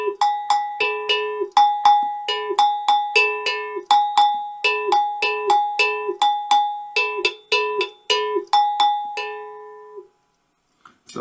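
An African double iron bell played in a steady rhythm for a social dance, its two ringing metallic tones struck in quick repeated patterns, some notes bent into a wah-wah by holding the bell against the body, close and clear until it stops.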